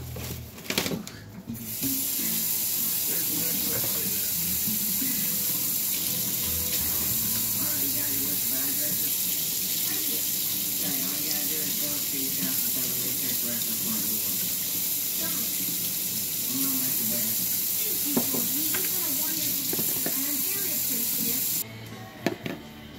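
A tap runs hot water with a steady, loud rushing hiss for most of the stretch while a person talks over it.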